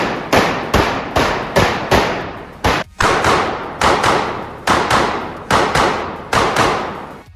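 Canik TP9 Combat Elite pistol fired at a range, about twelve loud, sharp gunshots in an even cadence with one brief pause partway through, each crack followed by a short decay.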